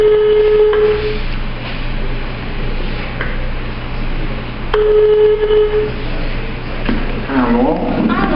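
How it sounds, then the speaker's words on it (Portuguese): Incoming call tones on a Brazilian TV news show's phone line: repeated steady electronic beeps in two bursts over a hum-laden studio background, with a person talking faintly. "estamos comunicando que nós estamos com uma ligação no nosso portal de voz"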